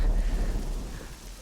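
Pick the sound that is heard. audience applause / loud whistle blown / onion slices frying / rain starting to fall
rain starting to fall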